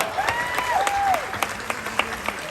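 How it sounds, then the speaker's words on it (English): Audience applause at a bird show at Dubai Safari Park rises after a performance by African grey parrots, steady and moderately loud with scattered sharper claps, while a whistling tone sweeps above it. "how about another round of applause for our African Grays?"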